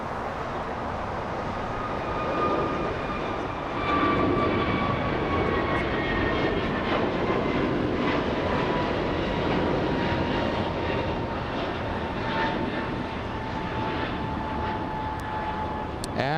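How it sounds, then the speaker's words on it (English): American Airlines airliner taking off at Los Angeles International Airport, bound for Reagan National; a distant, steady jet engine roar with faint whining tones, sustained throughout and fairly quiet, with no voices. "Josh, we're zooming into the next takeoff. We have American 2532 flying to Reagan National."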